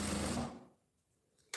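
Sewing machine stitching with polyester thread and a size 14 needle at 3.5 stitch width, a loud steady motor whir for under half a second that then stops, leaving near silence before a sharp noise at the end.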